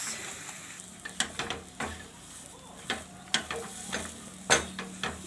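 Sweet lentil puran filling is stirred in a pan over a low gas flame, with a soft sizzle under repeated sharp scrapes and clicks from the spoon.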